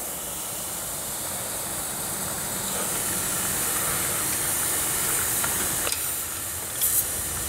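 Steam hisses steadily from a leak on a 5 inch gauge NSWGR C32 class model steam locomotive under overhaul, a continuous close airy hiss with a few faint clicks and no voices.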